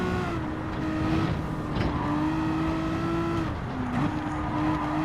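A Group 4 race car in Gran Turismo 7 on a license test track, its engine holding a steady, loud whine that rises and dips through gear changes, heard alone without talk.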